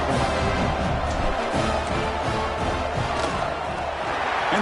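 A home crowd cheering in a college football video game after a touchdown, a steady loud roar of massed voices that fills the whole stretch without a break.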